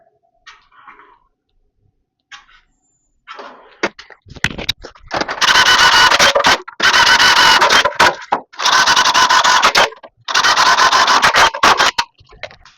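Rivets are removed from a damaged ladder step. Four loud, harsh grinding bursts of about a second each are separated by brief pauses, and a few quieter scrapes and clicks come before them.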